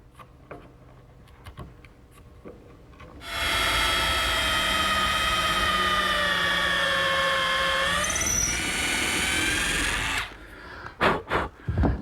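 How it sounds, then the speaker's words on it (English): A router fitted with a half-inch mortising bit cuts into wood with a loud, steady high whine lasting several seconds, its pitch dipping briefly under load before it spins down, followed by a few short knocks. "Now, I'm using a 1/2 inch mortising bit to remove the material."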